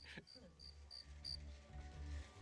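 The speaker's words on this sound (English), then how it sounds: "that was our satire on every time that you see crickets chirping when something's supposed to be silent" Crickets chirp in a comedy gag meant to mark awkward silence, with steady evenly spaced bursts over a low background rumble.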